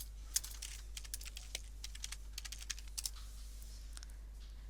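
Rapid clatter of keystrokes on a computer keyboard as a web search is typed, a steady run of light clicks with brief pauses, close and fairly quiet with no talking.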